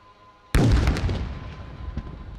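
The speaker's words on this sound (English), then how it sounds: "the opportunity target helipad at Tango 13 will now be engaged" Armed swarm drones strike a helipad target during an Indian Army Day parade demonstration. After a short quiet lead-in, a single loud, sudden explosion bursts out and rumbles away with trailing crackles, heard from a distance in open air.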